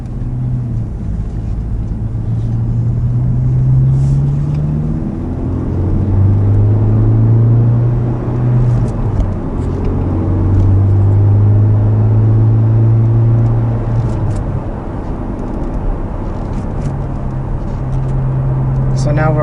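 A Honda Civic FL5 fitted with a Magnaflow exhaust cruises in fifth gear at about 2,000 rpm, giving a steady low exhaust drone and rumble throughout, with someone talking over it.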